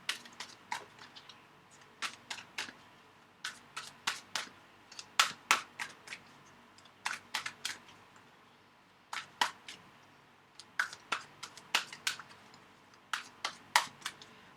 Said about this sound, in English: I'm just pulling up. Okay, oops. Cards